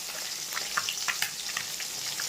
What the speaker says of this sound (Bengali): আর মাছটাও ভাজতে বসিয়ে দিয়েছি,